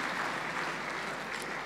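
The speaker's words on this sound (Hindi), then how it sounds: "एक बार ज़ोरदार तालियां मैं चाहूँगी" Audience clapping at the opening ceremony of the World Hindi Conference, a dense, even patter of applause heard from a distance at a modest level for the whole short stretch.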